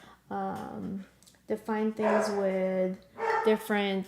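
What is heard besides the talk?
dog barking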